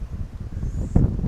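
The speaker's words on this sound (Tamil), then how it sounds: "காற்று புயல் வேகத்தில் அடிக்குது, புயல்." Strong gusts of wind buffet the microphone at a hilltop temple, a short rumbling blast that swells sharply near the end.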